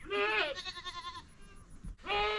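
Farm goats bleat nearby in wavering, strained calls, two long cries with a shorter one between them, clear over a quiet background.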